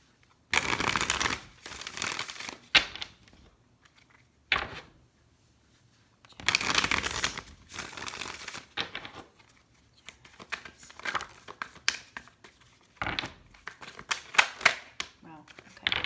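Tarot cards being shuffled by hand in bursts of crisp riffling and sliding, with pauses between rounds, close by and fairly loud, while a person talks over parts of it.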